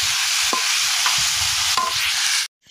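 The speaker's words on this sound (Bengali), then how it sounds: "এবার আমি এই আলু মরিচ পেঁয়াজ কিন্তু আস্তে আস্তে জাল দেবো। আর এই যে তেল আছে এই তেলেই কিন্তু ভেজে নিব।" Potatoes, chillies and onions frying steadily in oil, a loud continuous sizzle with a few brief stirring clinks, no voices, cutting off abruptly near the end.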